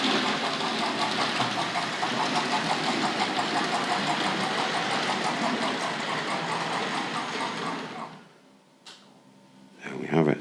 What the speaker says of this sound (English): Got the chuff chuff sound in, of course.